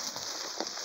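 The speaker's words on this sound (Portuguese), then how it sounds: "chovendo demais" Heavy rain falls during a riverside fishing trip, heard as a faint, steady patter and hiss with a few scattered drips.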